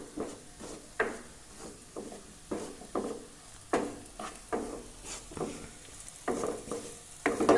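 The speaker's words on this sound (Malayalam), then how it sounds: "നമുക്കിത് ഇളക്കി പൊടികളൊന്ന് മൂപ്പിച്ചെടുക്കാവേ." Spoon or spatula stirring soya chunks with chilli powder as the spices roast in a pan, a steady series of scraping strokes over a soft sizzle, close and alone.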